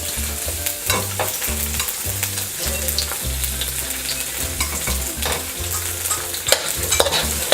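White onion and browned garlic sauté in a pan for a chicken gizzard chopsuey, a strong, continuous sizzle with busy stirring clatter and scraping throughout, close and loud, with no voices.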